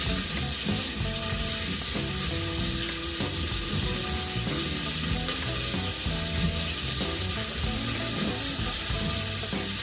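Steady, loud sizzling of carrot frying in a hot pan, with occasional stirring scrapes throughout and no talking.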